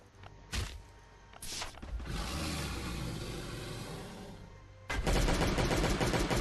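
Assault rifle fire in the mobile survival game Last Day on Earth: sharp bursts of rapid shots crackle in the near field, with brief pops early on, a sustained rattling stretch, then a dense, loud final burst.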